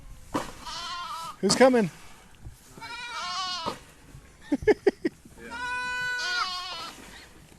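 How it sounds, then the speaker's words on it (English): Several goats bleating nearby at an animal farm, loud wavering cries coming one after another, with a person speaking briefly between them. "Hey, goats."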